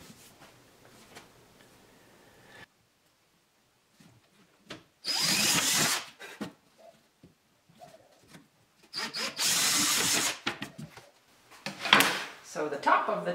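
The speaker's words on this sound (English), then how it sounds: "Then I measured and drilled the holes" A power drill boring holes in wood for drawer handles on a roll top desk, three loud whirring bursts after a person speaks, with pauses and small handling noises between them.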